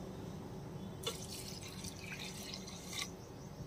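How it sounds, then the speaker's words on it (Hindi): Water is poured into 800 grams of rice, about one and a quarter kilos of it, while preparing tandoori sajji; a faint splashing trickle starts after a second, runs for about two seconds and then stops. "800 ग्राम हमारे पास चावल हैं, इसके अंदर हम पानी डालेंगे 1 किलो 1 पाव।"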